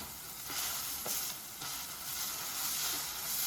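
Tomatoes sauté in a pan for a lady fish theeyal, a steady close sizzling hiss with gentle swells and faint stirring, no voices.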